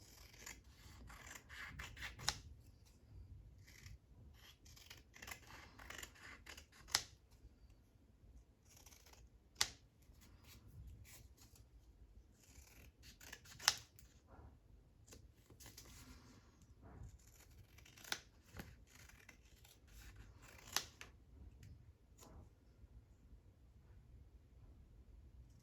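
Scissors trim paper for a vintage-style craft base, giving quiet, steady snipping and rubbing with a few sharper cuts across a faint, steady background.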